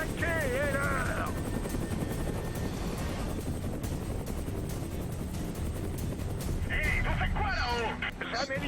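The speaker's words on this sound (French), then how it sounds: "j'ai demandé un hélico de combat pour m'amuser?" Combat helicopter in the video game Prototype 2, its steady rotor drone running loud and continuous throughout, with game music and voices layered on top.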